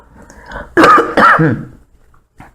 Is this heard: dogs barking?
no